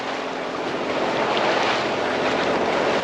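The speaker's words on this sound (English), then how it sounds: "We are fighting the waves." Sea waves and strong wind around a sailing yacht on Caribbean water, a loud, constant rushing roar with wind buffeting the microphone, no voices.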